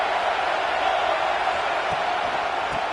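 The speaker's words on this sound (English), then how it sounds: "Tremendous crowd atmosphere now in the final minute of play." Steady, dense stadium crowd roar from a College Football 26 playoff game in the final minute of play, a broad continuous wash of cheering that holds at an even level throughout.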